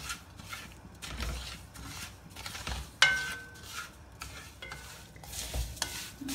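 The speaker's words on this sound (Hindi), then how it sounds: "इसको 3-4 मिनट तक हम घी में भूनेंगे" Wheat porridge (dalia) roasting in ghee in a pan, a soft steady sizzle broken by repeated scraping strokes of a spoon stirring, plus one sharp metallic clink, near and with no talking.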